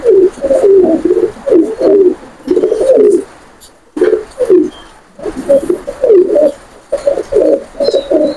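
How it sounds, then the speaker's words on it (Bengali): Pigeons at a high-flying pigeon loft in Khulna coo close by in repeated rolling, throaty phrases, with short pauses between bursts and faint chirps in the background. "এটা হলো মাদি কবুতর, আর এটা হলো নর কবুতর।"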